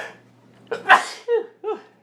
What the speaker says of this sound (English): Go on, sneeze.